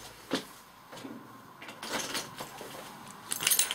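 Keys on a keychain jangle and clink up close in scattered bursts that build to a busier rattle at the end, with some handling knocks between them.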